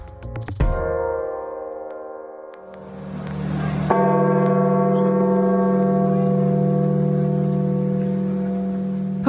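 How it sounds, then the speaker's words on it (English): Deep church bells ring out in Vatican City after the death of Pope Francis, with long, overlapping resonant tones, a sharp strike near the start, then sustained ringing swelling louder and filling the space. "What you just heard were bells ringing in Vatican City on Monday"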